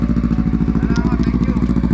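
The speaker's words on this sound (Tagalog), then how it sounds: "Ang ingay ng motor mo!" A Kawasaki motorcycle engine runs loud and close with a steady, pulsing throb on a ride through a flower farm.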